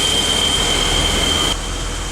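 Steady low exhaust rumble from a classic BMW 635 CSI idling in a garage, continuous and fairly loud with a constant high whine over it, dropping slightly in level near the end.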